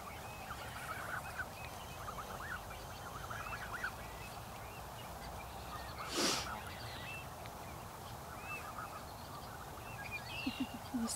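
Geese grazing outdoors give soft, scattered honks and low calls at a distance over a steady background hiss, with one brief louder burst midway.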